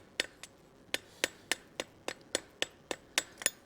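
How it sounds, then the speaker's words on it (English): A small-faced hammer, its face about 3/4 inch across, strikes metal while candlesticks are forged, giving a steady run of about a dozen sharp, close ringing blows with no talk. "we're going to hammer the material with the flat of the hammer, or the face of the hammer"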